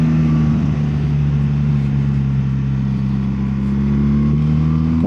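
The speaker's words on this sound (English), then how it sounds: "The exhaust note's quite nice on it as well" A loud, close BMW R 1300 GS Adventure motorcycle engine drones with a steady, throaty exhaust note, its pitch rising slightly toward the end as it accelerates.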